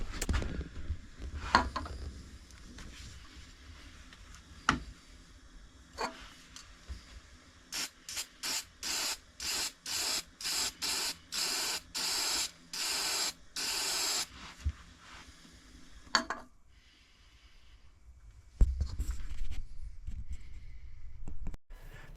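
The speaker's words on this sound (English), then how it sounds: "Then we're going to start hitting it with the gloss lacquer." Gloss lacquer sprayed onto a woodturned piece in rapid short bursts, a string of even hissing pulses in the middle of the clip, with quieter workshop handling sounds before and after.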